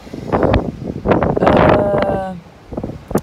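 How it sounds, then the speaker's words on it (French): Strong, gusty wind from Storm Franklin buffets the microphone in loud, uneven rumbling surges, with a faint tonal whistle partway through. "Regardez, le vent s'accentue même ici."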